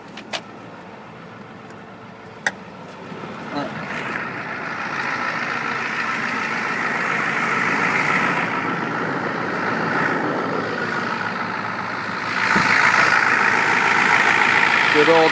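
A 1994 Ford F250 turbo diesel idles under the hood with a steady, moderate rumble and hiss, rising slightly louder toward the end, with a couple of sharp clicks early on.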